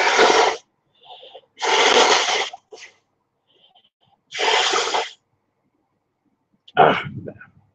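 A person sneezes repeatedly, several close, explosive bursts separated by pauses, ending in a fuller final sneeze with a throaty tail; no talking.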